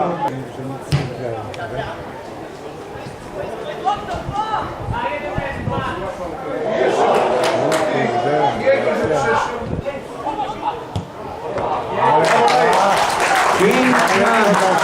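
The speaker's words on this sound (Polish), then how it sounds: "brawa dla Michała Sokołowicza" Spectators at a football stadium applaud a player during a Polish lower-league match, with clapping and crowd noise swelling in the second half under a loud announcer's voice over the public address.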